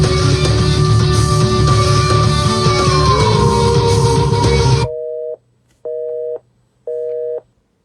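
A dense, loud full-band song cuts off abruptly, leaving three evenly spaced electronic phone beeps, each a steady tone with short silences between, ending the grunge track.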